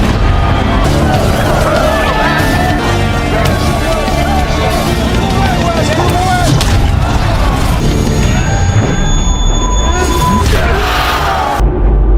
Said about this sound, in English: followed by the cheers of the crowd